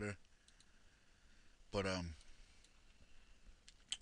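A few faint, sharp clicks come from the F2 key being pressed on a computer keyboard, spread across a few seconds. Someone briefly speaks over them.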